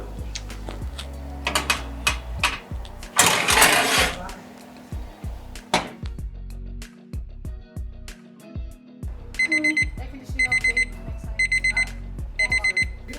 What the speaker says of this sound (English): This is beeping away like it's just insane, right? It doesn't stop.